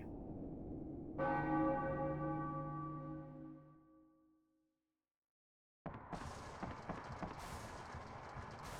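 A single church bell in the Final Fantasy IX video game strikes once, loud and close, its rich ringing tone slowly fading to silence before busy game sounds resume.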